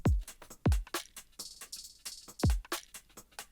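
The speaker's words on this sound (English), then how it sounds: "So the entire drum loop without processing." Unprocessed electronic drum loop with deep, booming kicks falling in pitch, crisp snares and hi-hat ticks in a steady groove, played dry and fairly quiet.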